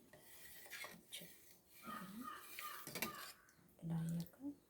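A spoon stirs thick, simmering buttermilk curry (majjiga pulusu) in a metal pot. Scrapes and clinks come close in short irregular bursts, with a voice heard faintly at times.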